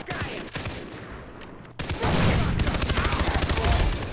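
Rapid gunfire from shooting enemies in the video game Far Cry 3, dense bursts of shots building into a loud sustained volley after a quieter stretch of scattered fire, with faint talk beneath.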